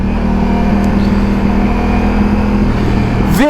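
A Ducati Multistrada motorcycle engine under throttle in sport mode while riding. It hums steadily and loudly with wind noise, then a sharp rising rev near the end.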